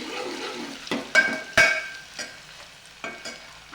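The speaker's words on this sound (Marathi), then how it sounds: "दोडका टाकला आता याला व्यवस्थित मिक्स करायचं तर याला आता दोन मिनटं तेलामध्ये मिक्स करायचं व्यवस्थित" Ridge gourd being stirred and fried in hot oil for a Marathi dodka bhaji, with a steady sizzle broken by several sharp scraping stirs of a spoon against the pan, close and fairly quiet.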